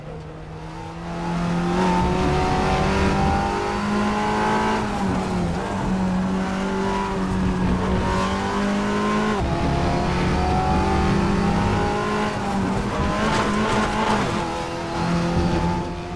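Race car engine in the RaceRoom racing game, revving hard and climbing through gears with brief dips at each shift, loud and continuous throughout.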